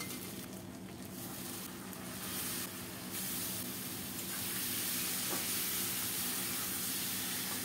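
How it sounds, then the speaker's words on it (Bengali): Coconut and cumin paste frying in a pan gives off a steady, close sizzling hiss that swells slightly and stays constant throughout, with no talking. "নারিকেলটা সুন্দর মতো ভাজা হলে এখন দিচ্ছি জিরা বাটা"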